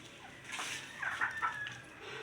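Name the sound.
chickens clucking in a coop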